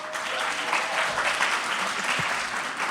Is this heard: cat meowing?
no